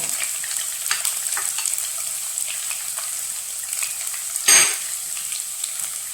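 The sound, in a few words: mustard seeds and garlic sizzling in hot oil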